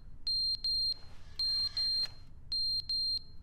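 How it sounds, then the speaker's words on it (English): Smoke detector beeping in The Stanley Parable video game: loud, high electronic chirps in clear repeated pairs, each beep about a quarter second long, with short gaps between the groups. "Is that the smoke detector?"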